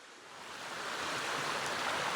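Rough Creek in the Cohutta wilderness rushes by in a steady broadband wash, a moderate and continuous flow that swells slightly at the start and then holds alone.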